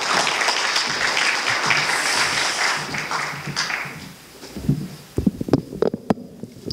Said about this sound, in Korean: 여러분 뜨거운 박수로 맞으시면 감사하겠습니다